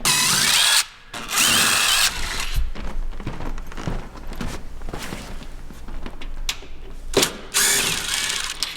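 A power drill backs four screws out of a shipping pallet holding an animatronic, with loud whirring bursts at the start and end and clattering, ratcheting handling noises between them, close up.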